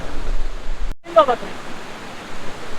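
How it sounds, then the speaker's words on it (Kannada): Gollapalli falls in Raichur gives a constant broad rush of falling water heard from partway up the falls. There is a brief dropout, and a voice cuts in over it for a moment. "ಅರ್ಧದಷ್ಟು ಮೇಲೆ ಏರಿದ್ದೀನಿ ಫಾಲ್ಸಿಂದ. ಚೆನ್ನಾಗಿದೆ ಫಾಲ್ಸ್."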